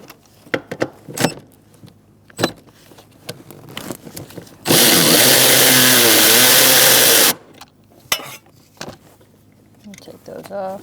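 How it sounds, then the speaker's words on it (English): A 12mm socket loosening nuts on the rear parking brake of a 2002-2006 Honda CR-V: one loud, sustained whirring burst of about two and a half seconds, framed by scattered metallic clicks and clanks. "Using a 12mm socket, we're going to loosen up these nuts."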